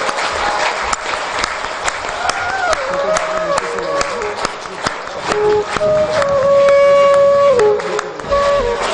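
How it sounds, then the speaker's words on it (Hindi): Loud, sustained applause from a large audience at a Nashik yoga session, dense clapping throughout with music tones and voices mixed in. "तालियों की आवाज धीमी ना हो आपकी।"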